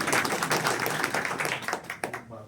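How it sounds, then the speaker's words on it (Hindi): Audience at a Hindi-language public gathering on citizenship breaking into brisk, dense clapping, a continuous patter of many hands at moderate distance that thins out near the end. "एक बार उनके लिए आप ताली बजा दो"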